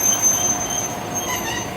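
A passenger train draws to a halt at a small-town station in Topolka, with a continuous rumble of rail cars and a thin, steady squeal of braking wheels.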